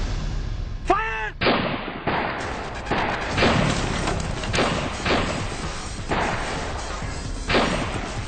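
A police shootout, with a shouted command followed by a rapid series of loud, sharp gunshots, about eight blasts spaced roughly a second apart with echoing tails.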